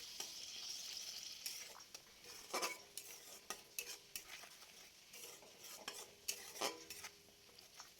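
Black cumin paste fries gently in a pan as a utensil scrapes and stirs in quick, irregular strokes over a faint, quiet sizzle.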